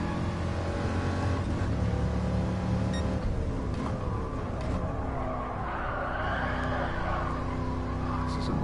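A 1969 car drifts in a racing video game, its engine droning steadily while long tire squeals rise and fall over a constant loud roar.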